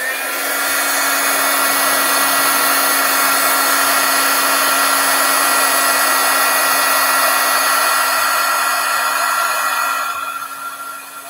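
A heat tool blows steadily on embossing foil over a card, a loud continuous whirring hiss with a fixed whine, holding at an even level and tapering off near the end with no talking.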